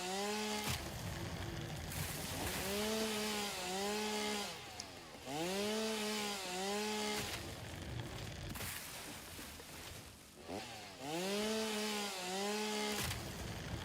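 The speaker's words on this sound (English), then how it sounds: "I love the sound of chainsaws." A chainsaw in the video game Project Zomboid revs up and down in repeated bursts, with a loud buzzing whine that swells and drops over a steady running engine and brief pauses between pulls.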